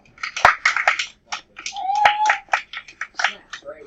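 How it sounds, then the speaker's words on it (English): Students in a middle school math class snap their fingers in scattered bursts instead of clapping, sharp clicks mixed with lively chatter and kids talking over them. "Snaps, right? We're too cool to clap."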